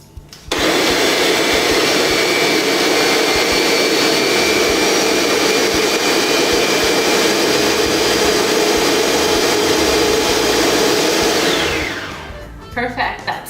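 A countertop blender whirs loudly and steadily for about eleven seconds, pureeing homemade jalapeno hot sauce, then spins down and stops with a few clunks.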